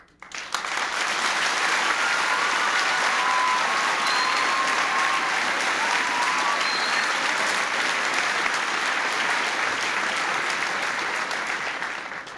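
Sustained audience applause at the 1994 signing ceremony of the Improving America's Schools Act, a dense, steady roar of clapping that holds strong for over ten seconds before tapering slightly at the end.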